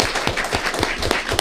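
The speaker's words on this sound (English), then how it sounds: "Let's give Dave a big round of applause" Applause at a county schools board meeting for a third-grade student, a modest crowd's clapping with distinct individual hand claps standing out, brief and close.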